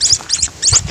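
A small caught bird gives three quick, shrill squawks in rapid succession, close and sharp, with no other sound around them.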